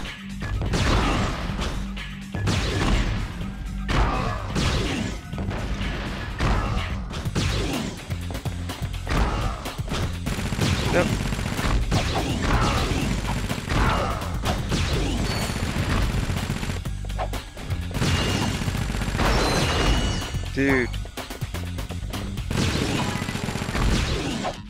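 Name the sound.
weapon shots in video game Ratchet & Clank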